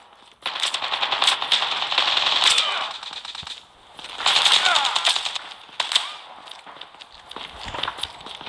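Automatic gunfire from the Call of Duty video game comes in long, dense rapid bursts with short pauses, loud and close, with a few isolated shots near the end.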